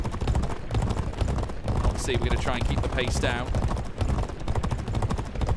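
Racehorses galloping in a Group 3 race in the 2008 video game G1 Jockey 4, a steady clip-clop of hooves running under continuous talking.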